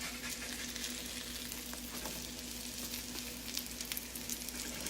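Steady, quiet sizzle of small potato patties frying in a pan, a dense crackling hiss with occasional sharper pops, heard alone with no voices.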